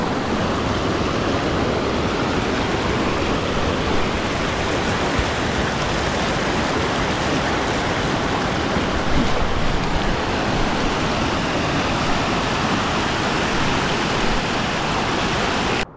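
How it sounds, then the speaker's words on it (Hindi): A forest waterfall at Satnari, Balaghat, gives a constant full-bodied rush of water, loud and close and evenly sustained, with no talking over it. "और एक बार आप इस झरने की आवाज़ सुनिए,"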